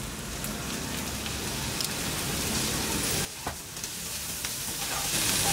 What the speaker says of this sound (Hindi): थोड़ा सा हम इसे कीमे के साथ भून लेते हैं ये सब्जियों को